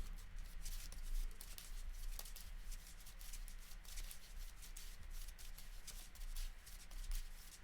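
KeyForge cards being shuffled by hand during a tabletop match, a continuous close riffle-and-patter of card edges lasting several seconds with no talk over it.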